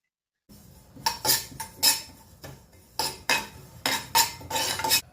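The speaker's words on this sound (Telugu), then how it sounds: "ఒక 2 స్పూన్స్ నువ్వులు మనము ఫ్రై చేసుకుందాము" Sesame seeds are fried in a pan, heard as repeated metal spoon scrapes and clatters against the cookware in uneven bursts after a brief silence, close and fairly loud with no talk.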